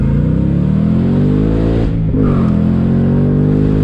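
A 2021 Shelby GT Speedster Mustang convertible accelerating on throttle, its engine note rising with a layered whine, briefly dipping as if shifting, then pulling hard again, loud and continuous with no voices.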